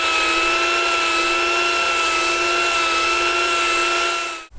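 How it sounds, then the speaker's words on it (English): A small mini grinder with a sanding disc whines at a high, steady pitch while shaping a solid wood tray, loud and close, holding constant before cutting off abruptly at the end. "using a mini grinder with a sanding disc"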